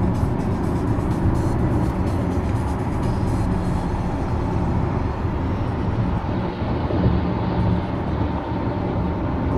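A Tesla Model X driving itself on Autopilot makes a steady, smooth road noise with a low rumble of tyres and airflow inside the cabin. The sound stays constant and fairly loud, and there is no speech.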